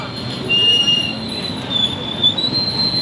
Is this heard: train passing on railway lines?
yes